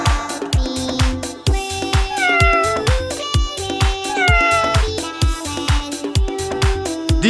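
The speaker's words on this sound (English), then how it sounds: "C brings a cat." Repeated cartoonish cat meows rise and fall over a bouncy musical beat, one after another, loud and up front.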